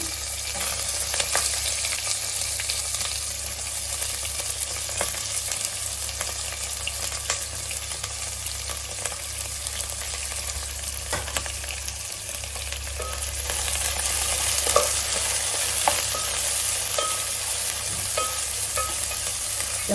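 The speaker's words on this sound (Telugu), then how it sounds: "ఆనియన్స్ అయితే బాగా వేగాలి. ఆనియన్స్ అయితే బాగా వేగాలండి." Chopped onions with biryani whole spices fry in a pot for a vegetable pulav, a continuous dense sizzle that holds steady and close throughout, with faint stirring ticks.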